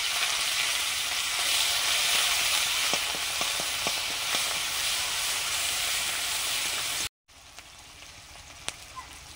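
Onion paste, whole cumin and dried red chillies frying in hot mustard oil for a cauliflower, potato and rohu fish curry make a loud continuous sizzle with faint stirring clicks, then a brief cut and a quieter sizzle.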